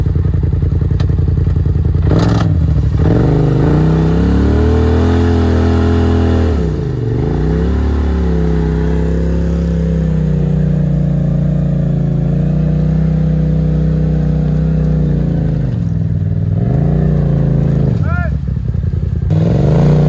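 A Can-Am Maverick X3 4x4 side-by-side off-road engine revs hard and steady with spinning tires, a loud close drone that dips and surges several times across the stretch, punctuated by clattering thumps.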